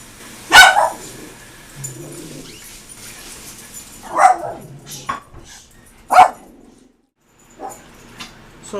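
A pet dog barks in short sharp bursts indoors, about three distinct loud barks spaced a couple of seconds apart with softer yips and whimpers between, no talking.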